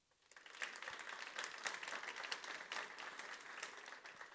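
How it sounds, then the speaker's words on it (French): Audience applause at a live tech conference talk, a steady wash of many hands clapping that swells in quickly and holds near and even throughout. "Beaucoup d'applaudissements, évidemment."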